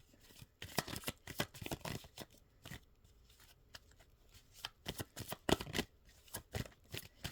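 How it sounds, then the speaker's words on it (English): Mermaid Oracle cards being shuffled close up, in quick papery riffles and flutters that come in bursts with short pauses, crisp and fairly quiet, without talking. "pull a couple of cards from the Mermaid Oracle to see what you need to concentrate on this week"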